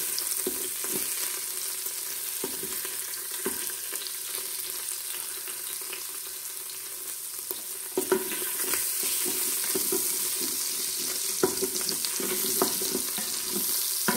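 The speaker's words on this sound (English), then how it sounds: "Now I'm going to drop about a tablespoon of butter in the bottom of this and deglaze the bottom of my" A tablespoon of butter sizzles in the bottom of an Instant Pot as it is deglazed, a steady close crackling fry with occasional scraping and stirring clicks, growing a little louder partway through, with no voices.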